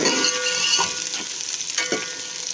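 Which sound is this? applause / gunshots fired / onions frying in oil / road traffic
onions frying in oil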